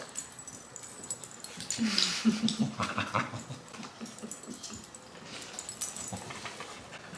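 A pet dog whimpering softly at home, faint whines and snuffling sounds close by, fairly quiet with no clear talk over them.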